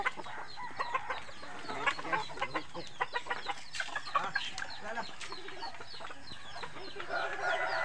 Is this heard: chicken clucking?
yes